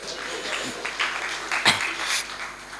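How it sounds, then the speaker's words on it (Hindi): A crowd at a comic poetry recital applauds from a distance, a soft, steady wash of clapping with a few slightly louder swells. "बात समझ में आ गई हो तो एक बार तालियां बजा दीजिए इनके लिए"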